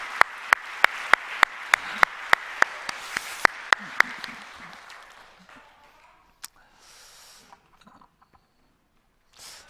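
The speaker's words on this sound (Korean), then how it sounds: "이분들 우리 한번 큰 박수로 한번 축복해 줍시다" A church congregation at a Sunday worship service claps to bless a group of teachers: sharp, evenly spaced claps stand out over a murmur for about four seconds, then thin into a few scattered claps before falling quiet.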